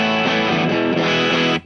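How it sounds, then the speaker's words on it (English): An electric guitar with Travis Bean style humbucker pickups in standard tuning is played through an amp's clean channel. A single full chord rings loud and close, sustaining with a slightly gritty edge before stopping short. "And it's just standard tuning and into the amp in a clean channel."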